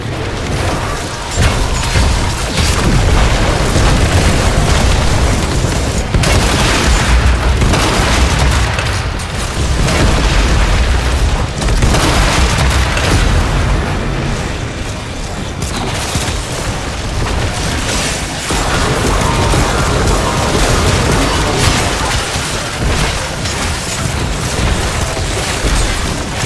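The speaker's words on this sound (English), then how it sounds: "Heads up! Bombardment inbound." Heavy bombardment in Warframe, continuous rolling booms and blasts that stay loud and dense throughout, with no pauses between the impacts.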